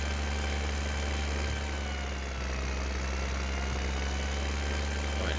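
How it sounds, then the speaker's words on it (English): A tractor engine idles in the video game Farming Simulator 2015, a steady low droning hum with a constant tonal whine, even and unchanging throughout with no talking. "This is my favourite tractor, I think, on the farm."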